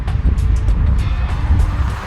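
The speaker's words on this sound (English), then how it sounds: "A nice raspy exhaust note" Volkswagen Polo GTI with a raspy exhaust note while driving: a steady, close engine drone with road roar and throttle pulses, alone and without talk.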